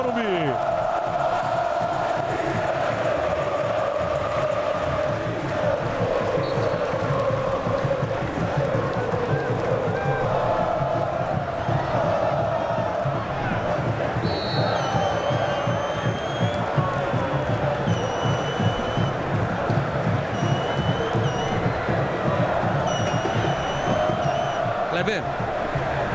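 A football crowd in the stands of São Paulo's Morumbi stadium at the 2012 Campeonato Paulista final between Santos and Guarani, a constant, roaring wall of chanting and cheering fans that stays loud throughout, with a commentator talking over it.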